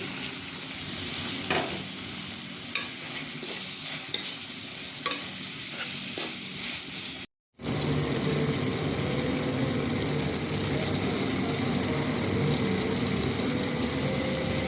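Chopped potato fries in a pan for a shing fish roe chorchori, giving a loud, continuous close-up sizzle that cuts out for a moment midway and then resumes just as strongly.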